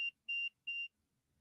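Three short, high electronic beeps at an even pace, close and clear, followed by near silence.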